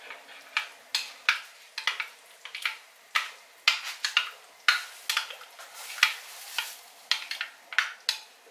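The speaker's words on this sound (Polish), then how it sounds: "I dodajemy do wywaru i intensywnie mieszamy." A spoon knocks and scrapes in a pot of żurek soup as it is stirred hard, giving quick irregular clinks and swishes, close and fairly loud, with no talking.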